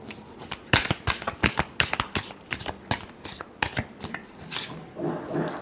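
A deck of tarot cards is shuffled close by in quick riffling bursts with brief pauses between, then a softer sliding rub at the end.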